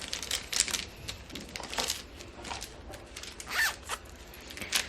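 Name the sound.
zipper of a large pencil case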